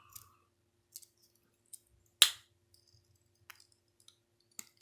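Sparse, sharp metallic clicks of the small scissors on a Victorinox Huntsman pocket knife opening and closing, about eight isolated snips at uneven intervals, close and quiet between them.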